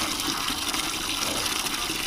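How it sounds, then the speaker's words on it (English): Water gushes steadily from a tap into a container, a continuous splashing hiss close by, with no talking. "And we're staring at a bucket filling with water."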